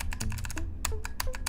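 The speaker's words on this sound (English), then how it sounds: "I was clicking." Rapid clicks from a mouse during Geometry Dash play, close and crisp, sounding like fast keyboard taps in uneven bursts with brief gaps, over a low steady game-music hum.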